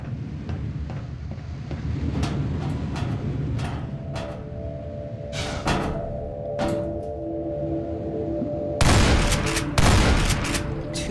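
Shotgun blasts at a barnacle in Half-Life 2, several sharp, loud reports spaced irregularly over a droning game background, with a tight pair of shots near the end.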